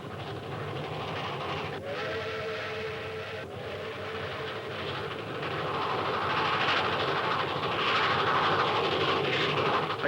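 A train running on rails through rural 1945 Alabama, a steady rumble and clatter that grows louder toward the end, with a brief whistle-like tone early on.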